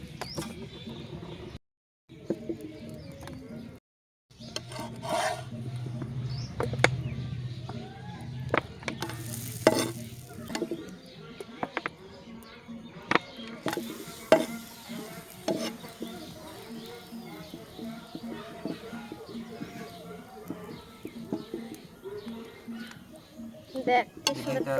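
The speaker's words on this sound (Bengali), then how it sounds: "এইভাবে সব পরোটাগুলো ভেজে নেব।" Layered atta paratha fries in a pan with a soft sizzle, broken by clattering utensil scrapes and flips, while people talk intermittently nearby.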